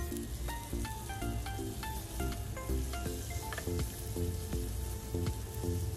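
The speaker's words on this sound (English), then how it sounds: "when the oil is hot, we'll place the marinated quails side by side" Marinated quails coated in spice mix fry side by side in hot oil over a medium flame, giving a continuous dense crackle and sizzle with fine popping, steady and close.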